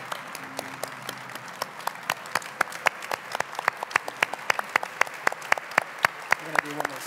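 Keynote audience at the Main Street Summit applauds the U.S. Surgeon General, a steady patter of sharp claps building slightly over several seconds, fairly close and moderately loud, with faint voices in the room.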